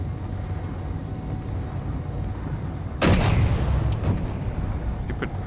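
A heavy-caliber gun fires in a video game, with a sharp loud blast partway through followed by a rumbling tail and a couple of smaller bursts over a steady low background hum.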